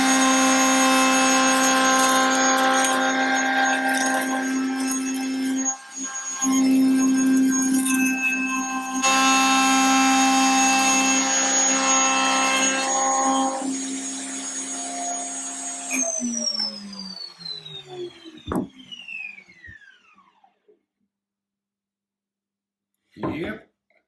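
A router trims the side of an archtop guitar body, a loud continuous high-speed whine that runs for about sixteen seconds before spinning down and fading out, followed by a brief bump.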